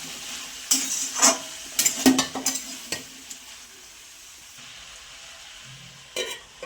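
A spatula stirring an onion greens vegetable with turmeric in a pan, several quick scraping and clattering strokes over a soft sizzle, with a pause and then one more scrape near the end.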